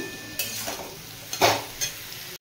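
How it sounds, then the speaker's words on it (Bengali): Potatoes and yardlong beans frying in a pan, a soft steady sizzle broken by a few louder scraping stirs of a utensil against the pan, close and alone without talk. "আলু বরবটি বেশ ভালোভাবে ভাজা হয়ে গেছে।"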